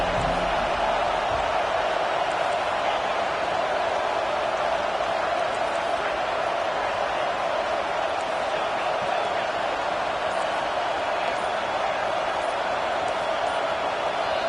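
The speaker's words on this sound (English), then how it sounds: "this crowd trying to help keep them there" A stadium crowd at a football game roars in a dense, continuous wall of cheering and noise lasting throughout, with a commentator's voice faintly mixed beneath.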